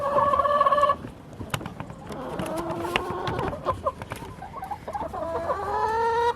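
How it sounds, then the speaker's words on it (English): Chickens on a homestead cluck and call repeatedly up close, with busy overlapping bird voices and rustling throughout. "I got a chicken that's pecking at my leg."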